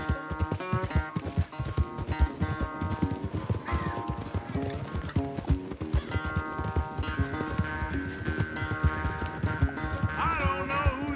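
Horses gallop in a race in Red Dead Redemption 2, a rapid, continuous drumming of hooves close by, with whinnies and a tonal game score running underneath.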